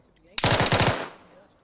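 Automatic weapon fire in the military shooter Arma 3 during a village assault, a loud rapid burst of about five or six close shots in quick succession, ending abruptly with a short decaying tail.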